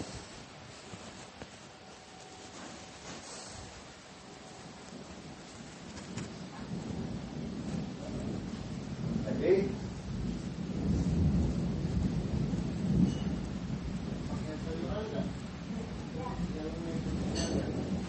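Steady rain with low rumbling thunder rolling through, heard from indoors at moderate distance, with people talking intermittently over it.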